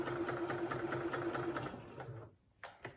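A sewing machine runs slowly and steadily, stitching fabric with pins left in place, then slows and stops, followed by a couple of soft clicks; quiet and close.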